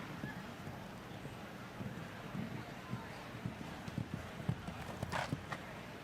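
Horse hooves clip-clop in a quick, uneven rhythm on a show jumping course, heard moderately close over wind and background noise while a commentator talks.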